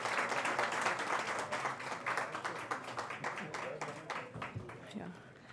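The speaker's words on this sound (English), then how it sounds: "Can we have another round of applause," An audience at a conference plenary session gives the panelists a loud round of applause, dense clapping that gradually thins and fades over several seconds while a voice speaks over it.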